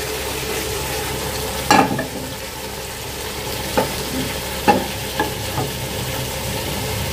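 Potatoes stir-fried with nearly cooked chicken curry in a pan, a low steady sizzle broken by a few sharp spoon clanks and scrapes.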